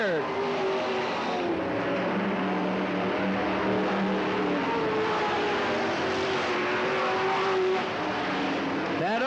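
Race cars roar around the oval at Cottage Grove Speedway in July 1991, a steady loud engine drone with rising and falling pitches as cars pass, while an announcer talks over the noise.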